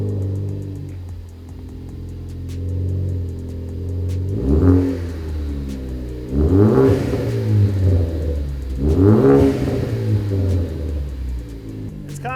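A Ford Focus ST with a 3-inch stainless steel cat-back exhaust and chrome tips idles with a deep, steady rumble, then revs twice in strong, rising pulls before settling back, heard close and alone.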